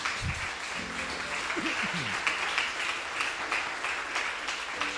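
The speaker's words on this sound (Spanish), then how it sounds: "Dale un aplauso al Señor, mi hermano." A church congregation applauds, a soft, steady wash of clapping heard at a distance, with a few faint voices rising briefly beneath it.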